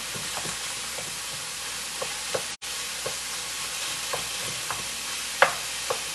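Green peppers and onions sizzle steadily in a pan at the start of a spaghetti sauce. Scattered soft utensil taps and one louder clink sit over the constant frying hiss, with no voices.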